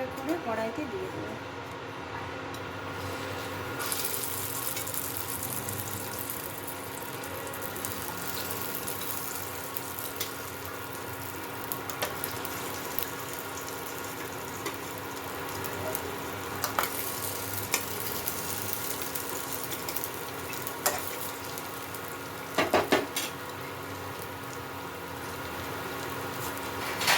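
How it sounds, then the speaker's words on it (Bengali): Tikia patties sizzle in white oil in a wok, a steady soft frying hiss with occasional stirring clinks and scrapes, quiet and close, while someone talks intermittently over it. "এবার আমি টিকিয়াগুলো এক এক করে কড়াইতে দিয়ে দেবো।"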